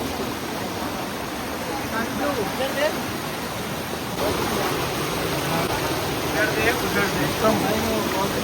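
Rushing water at Kalu Waterfalls in Maharashtra, a steady broadband roar of falling water that swells partway through and stays loud throughout, with faint voices underneath.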